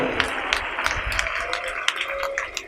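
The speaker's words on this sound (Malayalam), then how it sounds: "കൈയടിച്ചു മക്കളെ." A crowd claps together at a church gathering led by a priest, a dense, steady patter of many hands with a few sharper slaps standing out, heard from a moderate distance with faint murmuring underneath.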